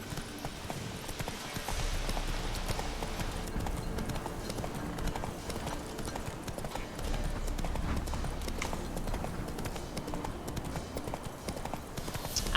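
Horse hooves gallop in The Witcher 3, a steady rapid clip-clop running throughout at close range over a dense game soundscape, with no speech.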